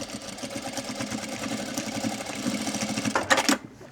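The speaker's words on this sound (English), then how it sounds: "We can stitch all the way down, back and forth tack" A sewing machine stitching down a pocket on a pair of shorts, a fast, even mechanical whirr running back and forth, ending in a brief louder burst before stopping.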